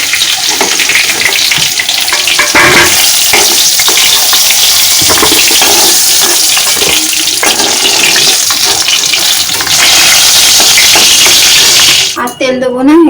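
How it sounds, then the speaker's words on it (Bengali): Whole cumin, garam masala, bay leaf and a dried chili sizzle loudly in hot oil, a dense continuous crackle with stirring scrapes close to the pan, fading out at the end. "এই তেলে গোটা জিরে, গরম মশলা, তেজপাতা, একটা শুকনো লঙ্কা এগুলো দিয়ে দিচ্ছি।"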